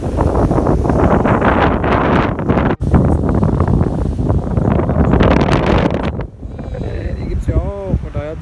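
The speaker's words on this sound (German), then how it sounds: "War jetzt ganz schön windig." Strong wind buffets the microphone in heavy gusts at Lake Baikal, with a person talking over the roar.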